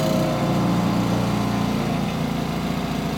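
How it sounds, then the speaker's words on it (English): A miniature grand-scale railroad locomotive's engine idles down beside a depot, a loud, steady mechanical chugging drone that eases slightly over a few seconds. "Idle the engine down."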